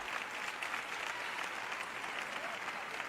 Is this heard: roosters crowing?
no